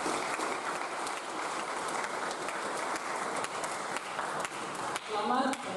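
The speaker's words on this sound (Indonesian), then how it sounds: "Tepuk tangan kita semua." An audience claps steadily at a high school graduation and farewell ceremony at SMA Kristen Yahya Bandung, a dense, even patter that holds throughout, with a voice rising briefly near the end.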